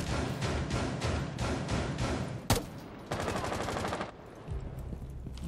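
Gunfire in the game Rainbow Six Siege comes as rapid automatic bursts with a sharp crack in the middle, loud and close, with brief gaps between volleys.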